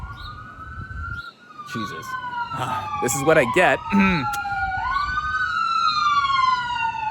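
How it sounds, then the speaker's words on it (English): Police sirens wail continuously as emergency vehicles pass outside, the rising and falling tones swelling loud and then sweeping down in pitch, with someone speaking briefly over them. "And these sirens."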